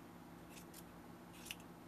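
Faint snips of scissors trim a yarn tassel in a few quick strokes against a steady low hum, with no talking.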